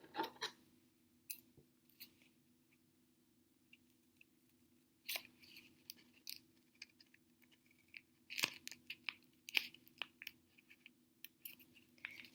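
Scissors snip through folded paper while someone cuts small triangles for papel picado: sharp, close clicks and crisp crunches in irregular bursts, separated by quiet pauses.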